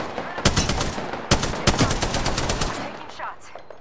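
Rapid automatic gunfire in the video game Apex Legends, with loud repeated bursts and stuttering shots running almost continuously.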